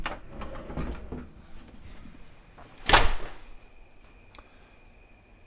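A kitchen door swings open with one short, loud burst of movement midway, preceded by faint scattered clicks and followed by a quiet, steady background hum. No one speaks.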